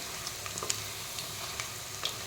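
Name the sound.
fritters frying in oil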